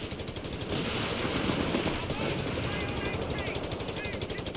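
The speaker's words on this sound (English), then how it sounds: "And our infantry are inside this building here, shooting out." In Company of Heroes 3, infantry fire from inside a building as rapid continuous bursts of rifle and machine-gun shots, dense and steady with battle noise behind, while someone talks over it.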